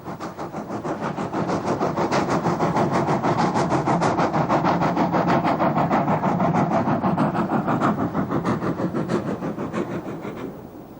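A steam banking engine from Lambton Colliery's private railway system in northeast England works hard, its exhaust beating in a rapid, steady chuff that builds, holds loud and even for several seconds, then eases off.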